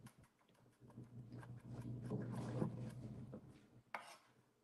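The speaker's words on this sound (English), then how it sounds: "we're looking for just like a finely minced sort of pair of garlic here" A knife finely mincing garlic on a cutting board, quiet rapid chopping taps running continuously at close range, ending with one sharper knock.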